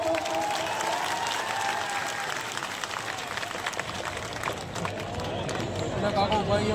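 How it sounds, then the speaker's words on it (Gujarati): A crowd at a Thakor community convention in Ogaddham breaks into loud, sustained applause that runs the whole time, mixed with crowd noise and voices. "તાળીઓ તો પાડો"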